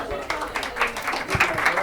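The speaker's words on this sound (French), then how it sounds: "Applaudissez pour Babzi." A small group applauds a participant in a lively gathering, a short burst of uneven clapping close by, mixed with voices and chatter.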